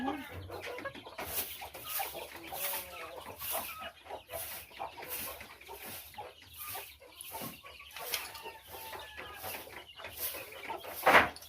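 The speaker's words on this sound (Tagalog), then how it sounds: "Punta tayo doon sa kulungan ng manok." Chickens cluck steadily inside a chicken coop, with overlapping calls from several birds and a busy farmyard background, fairly close and continuous with no talking.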